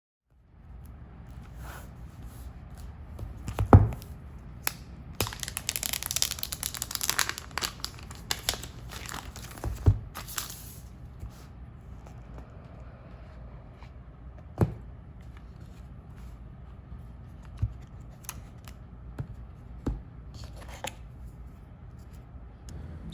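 New iPhone SE 2 boxes are being unboxed nearby: packaging crinkles, tears and rustles, with sharp handling clicks and taps in between, and a dense burst of crumpling early on.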